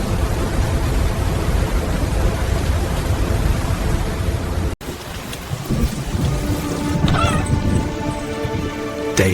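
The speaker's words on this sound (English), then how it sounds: "Outside, the world was rain." Heavy rain pours steadily during a storm, a dense, even hiss throughout that briefly cuts out, then returns with softer, more varied tones.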